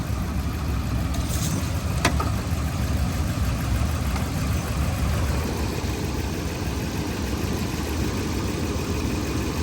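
A RAM 1500 pickup truck engine idles steadily in neutral with a low, constant rumble and vibration, close by, with a faint click early on.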